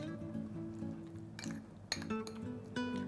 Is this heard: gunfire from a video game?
no